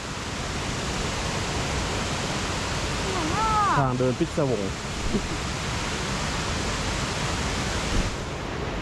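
A small waterfall spilling beside stone steps roars as a constant broadband rush, close and loud throughout, while a person briefly speaks over it midway.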